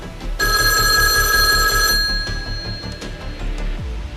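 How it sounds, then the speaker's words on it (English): A telephone rings once into a police department, giving a bright, sustained metallic bell ring, then a quieter continuing burr and a click at the end. No voices. "Ringing the police department."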